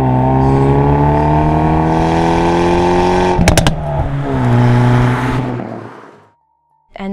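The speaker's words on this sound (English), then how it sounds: "I drive a 2019 Hyundai Veloster N" A 2019 Hyundai Veloster N at speed gives a loud, sustained engine drone that climbs steadily, a sharp mechanical clatter, a brief roar as it revs again, and then a fade into near silence.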